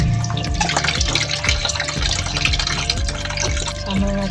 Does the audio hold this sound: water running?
yes